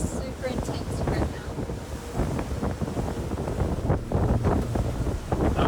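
Storm winds of more than 40 knots buffet a sailing boat at sea with bare poles, a loud continuous roar and gusting rumble with splashing, and voices faintly heard under it.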